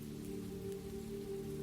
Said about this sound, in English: The rain continued, steady and kind.